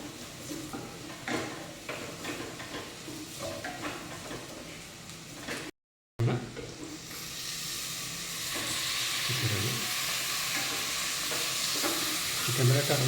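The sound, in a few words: chicken curry stirred with chilli powder and garam masala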